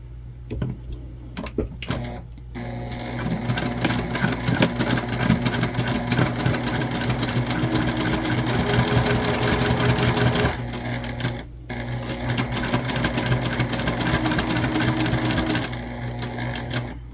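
A sewing machine stitches across the base of a quilted fabric pouch, a close, steady mechanical whir broken by two brief pauses and occasional clicks.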